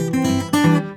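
A quick fluttery ornament on acoustic blues guitar: a few fast plucked notes hammer back and forth between two pitches, close and clear, in about a second.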